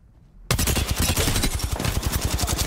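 Rapid automatic SMG fire in Apex Legends erupts after a brief quiet moment, a loud, dense, sustained stream of close shots.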